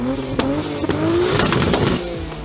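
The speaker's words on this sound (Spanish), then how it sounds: "el sonido que hacen los BR6 es delicioso" A naturally aspirated six-cylinder VR6 engine in a Volkswagen Jetta revs hard, its tone rising and swelling as the car accelerates, with a brief squeal of tires, loud and close.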